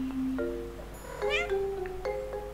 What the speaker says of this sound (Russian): Кто-то мяукал в мою сторону?